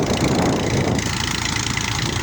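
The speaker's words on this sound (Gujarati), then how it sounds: "દાંતીમાં જોરદાર ટ્રેક્ટર હાલે છે મેથી ફર્ગ્યુસન બસો એકતાલીસ" A Massey Ferguson 241 tractor pulling a cultivator chugs steadily and loudly up close, a constant throbbing rumble with no pauses.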